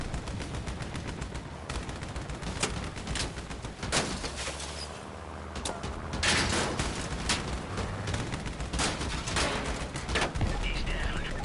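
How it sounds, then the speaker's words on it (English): Auto cannon fire in the vehicle combat game Crossout, with dense rapid bursts of shots and impacts in a constant loud barrage and someone talking over the gunfire. "Whipped by an auto cannon,"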